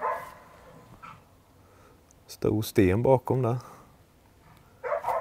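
A hunting dog barks a quick series of close, loud barks and yips in the forest, with a voice speaking quietly before and after.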